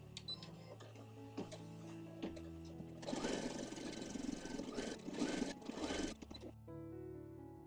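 An embroidery machine running a placement stitch outline for a rabbit appliqué, its needle hammering in a fast steady buzz that grows louder and denser midway, then stops with the motor winding down.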